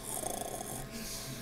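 A voice imitates snoring with a short, breathy rasp, then a quieter drawn-out exhale, close and fairly soft.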